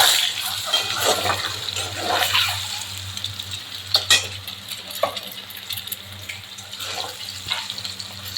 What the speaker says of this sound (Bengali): সুন্দর করে লাল করে ভেজে নিচ্ছি ডিমগুলো।